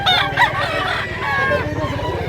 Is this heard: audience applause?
no